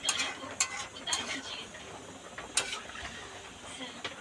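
Mustard fish curry being gently stirred in a pan, spoon scraping softly with faint sizzling, a few brief clinks standing out, close and fairly quiet throughout.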